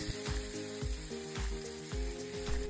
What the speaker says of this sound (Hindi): बिलाती को भी टिके फ्राई कर दबा। एबे 2 रु 3 मिनिट फ्राई कर देबे भलो भाबरे।